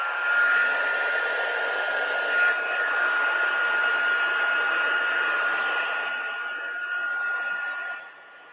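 A craft heat tool blows with a steady whirring hum while heating a clear craft project, running for several seconds, then dipping and cutting off near the end.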